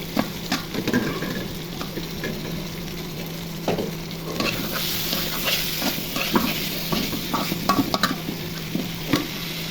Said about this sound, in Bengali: মশলা ভাজা ভাজা হয়ে গেছে, এখন মাংসগুলো দিয়ে দিব।